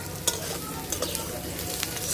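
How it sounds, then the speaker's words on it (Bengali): Bhaja masala, a dry-fried spice mix, frying and being stirred in a pan for a Katla fish kalia, a soft continuous sizzle with a few sharp scraping clicks from the spatula. "এই যে মশলাটা ঠিক এরকম করে ভাজে নিছি"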